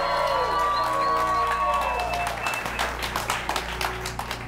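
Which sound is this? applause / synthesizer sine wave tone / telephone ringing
applause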